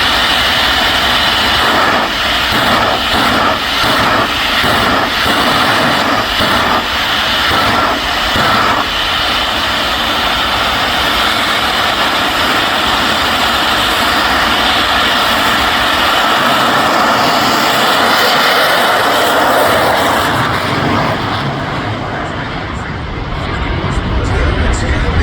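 A Rolls-Royce Viper 535 jet engine on a jet car roars loudly and continuously at close range at Santa Pod, a dense rushing whine that holds steady for about twenty seconds before easing slightly.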